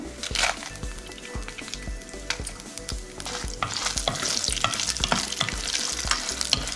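Fenugreek seeds, coriander seeds and dried red chilies frying in a pan, a soft sizzle under frequent rhythmic scraping of a spoon stirring the dry spices.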